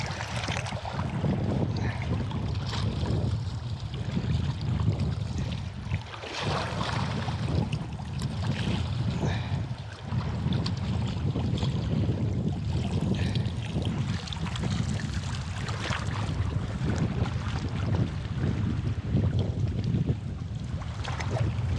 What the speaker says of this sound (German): der Wind